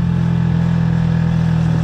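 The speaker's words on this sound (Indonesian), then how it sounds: "Jadi berangkatnya mesin berdengung." A motorcycle engine drones steadily and loudly up close while climbing an uphill mountain road to Mount Rinjani, Lombok, a constant low humming note with no pauses.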